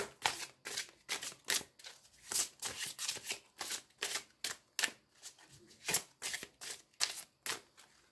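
Tarot cards being shuffled by hand in quick repeated riffles and taps, a steady run of crisp papery snaps at a close distance, with no talk.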